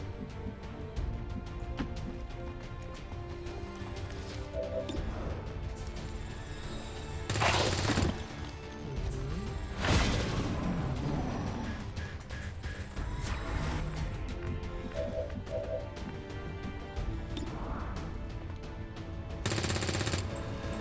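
Bursts of gunfire in XCOM 2: War of the Chosen over a constant background score, with several sharp volleys spaced a few seconds apart, loud and close.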